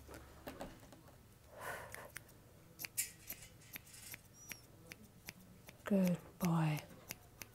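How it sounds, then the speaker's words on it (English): Several quick snipping bursts from thinning scissors trimming a Yorkshire Terrier puppy's hair close by, with soft taps and rustles between them and a quiet voice speaking briefly. "getting used to the noise of the scissors"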